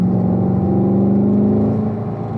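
A car accelerating on a race track during a track session: a steady, loud engine drone with a sustained low hum and slowly rising pitch, heard close with no voices.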